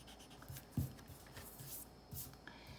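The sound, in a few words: pencil eraser rubbing on paper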